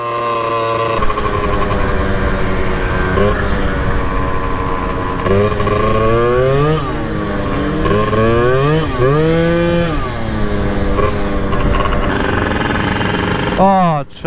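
Close, loud Honda Elite 50cc two-stroke stroker scooter engine on a cold ride, buzzing steadily then revving up and down in repeated rising and falling sweeps, with people talking over it.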